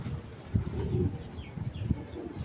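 Soft, low cooing from a large-headed pigeon kept by a pigeon seller comes in a few short, repeated pulses close by, over a faint background murmur.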